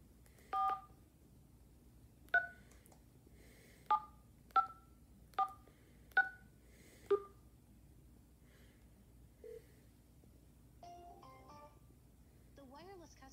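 Touch-tone keypad dialing a phone number: seven clear, evenly spaced DTMF beeps sounding one at a time, followed by a short tone and a brief electronic chirp of a call connecting, with no talking.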